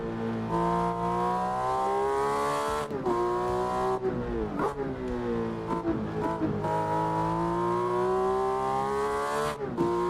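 A racing car laps the Nordschleife in the game Assetto Corsa, its engine howling loud and close, rising through the revs and dropping back at each gearshift again and again, with no talk.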